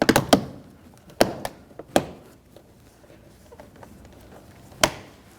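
Plastic clicks and thunks come from a master power window switch being pressed into the door panel of a 2003-2007 Honda Accord, with a quick cluster of sharp taps, a few spaced knocks, and one final firm snap, all close up.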